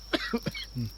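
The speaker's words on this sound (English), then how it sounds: "Take a little honey for the cough." A person coughs by a campfire near a hedgerow, three or four short, sharp hacks in quick succession followed by a lower, throaty rasp, close and fairly soft against a faint steady hum.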